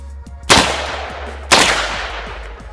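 A 300 Blackout AR-15 pistol fitted with a SIG arm brace fires two sharp, loud shots about a second apart, each close by and trailing off in a brief echo.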